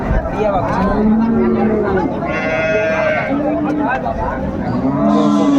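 Cattle, including a cow with her calf, moo and low repeatedly amid a busy livestock crowd at Raniganj cattle market in Dinajpur, with people talking over the animal calls.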